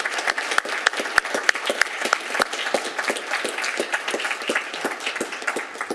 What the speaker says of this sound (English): Please give Jennifer a warm round of applause as we welcome her back to our Costa Mesa team.